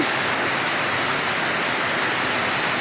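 Heavy monsoon rain pours down in Kerala as a loud, dense, unbroken roar of falling water, with no pauses across the whole stretch.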